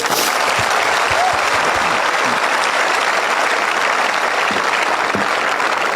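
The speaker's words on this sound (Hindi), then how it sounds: "आप सब आ खातर एक बार तालियां बजाई दो।" Audience applause at a Rajasthani language rights event, a dense, loud, continuous clapping from a large crowd lasting throughout, heard close and steady.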